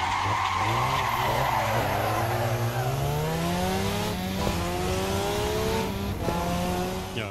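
Mazda RX-7 FC3S drifting in Assetto Corsa, with continuous loud tire squeal over a rising rotary engine note lasting throughout, no talking.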